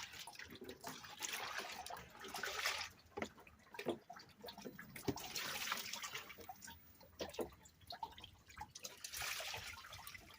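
Water splashes and trickles while a container is rinsed out by hand, with steady running water and intermittent drips and sloshes close by, no talk.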